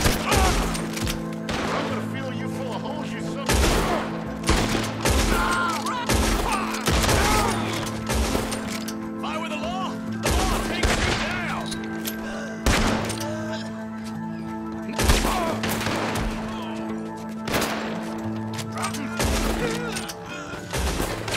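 Repeated gunfire and volleys of shots crack through a Red Dead Redemption 2 shootout, with bursts spaced irregularly over steady game music and ambience, loud and close.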